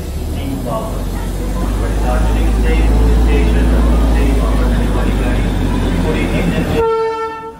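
The Darjeeling Himalayan heritage steam toy train rumbles loudly and close by, a heavy low drone that swells and then fades, with a sharp horn-like tone sounding near the end.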